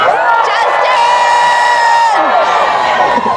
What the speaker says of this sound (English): Can we scream loud enough that he hears us?